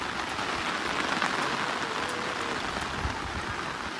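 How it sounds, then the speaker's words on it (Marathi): Steady monsoon rain falls on flooded rice paddy fields in the Konkan during planting, a dense, even hiss of drops with no voices, continuous and fairly close. "त्यात पाऊस चालू आहे"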